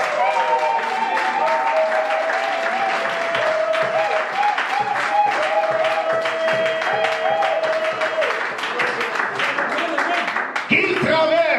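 A church congregation at a worship gathering claps and cheers loudly and continuously in a dense wash of applause. Voices and tones ring over it, and a brief shift comes near the end.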